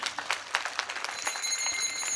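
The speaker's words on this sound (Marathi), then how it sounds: "एकदा स्वतः करता जोरदार टाळ्या वाजवायच्यात" An audience at a Marathi kirtan claps in a brief burst of dense, uneven hand claps, moderately loud, with no speech.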